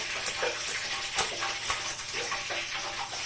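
Butter and sugar caramelizing in a pan for a mirabelle clafoutis, a steady dense bubbling sizzle with small crackles throughout, close and fairly loud, no voices.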